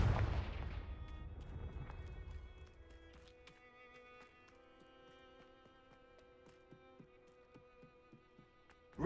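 The Confringo fire spell in Hogwarts Legacy goes off as a heavy blast that fades over about two seconds, then leaves a quiet tail of scattered ticks and light debris.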